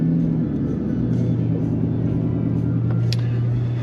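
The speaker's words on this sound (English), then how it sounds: "your truck sounds good going under these viaducts" Pickup truck engine droning steadily while driving under highway viaducts, a constant low rumble with road noise throughout.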